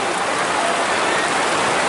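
Heavy rain pours down steadily at a football match, a dense, unbroken hiss that fills the whole stretch at loud, constant level with no voices or pauses.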